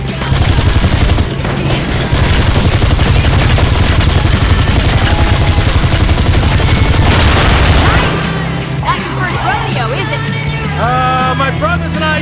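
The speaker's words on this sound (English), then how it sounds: "this is the part where you take this gun and shoot at the assholes behind us while I drive" Rapid cartoon gunfire during a gangster car chase, a dense continuous burst of shots over roaring engine noise for about eight seconds, then a quieter stretch with squealing, chirpy effects and voice-like sounds.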